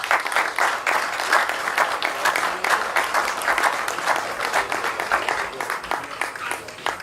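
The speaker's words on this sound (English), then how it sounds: "Please applause Detective Kartik." Audience at a 2016 regional security services recognition awards ceremony gives a sustained, loud round of clapping for an honoree, dense and continuous across the whole stretch with a faint murmur of voices mixed in.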